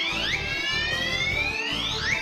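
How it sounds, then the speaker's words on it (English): A fire alarm sounds continuously in an enclosed cabin with an aerosol fire suppression system, rising electronic sweeps repeating over a pulsing low buzz, loud and close with no voices. "The detector signals the control panel, which triggers the visual and audible alarms."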